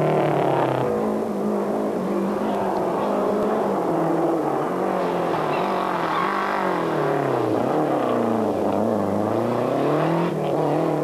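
A Lancia rally car runs on wet stages with its engine misfiring and struggling at low revs, a loud close drone rising and falling in pitch as it labours through gears.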